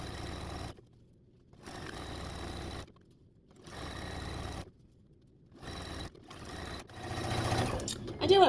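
A sewing machine stitches binding onto a small vintage quilt table runner in bursts: four or five runs of steady mechanical whirring, separated by brief pauses, close by and moderately loud.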